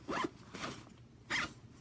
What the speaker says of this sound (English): This one is a zippered pouch.